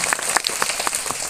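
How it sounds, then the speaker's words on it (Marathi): Brief applause at a village school's Independence Day program, a short burst of scattered hand claps from a gathered audience, moderately loud and without voices. "त्याच्यासाठी एकदा जोरदार टाळ्या होऊ द्या."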